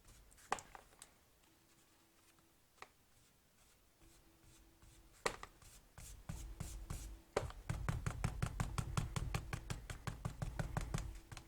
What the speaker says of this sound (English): Kind of dabbing will apply more ink.